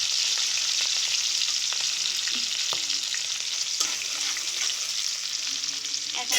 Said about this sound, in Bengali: এভাবে সুন্দর করে রসুনগুলি ভাজা নেব